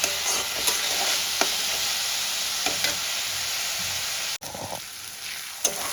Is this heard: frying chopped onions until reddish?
yes